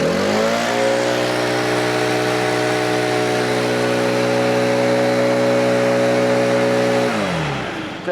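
Stihl BR800C backpack leaf blower running steadily at full throttle outdoors, a loud sustained engine roar with a strong droning whine that starts up, holds for about seven seconds, then winds down near the end.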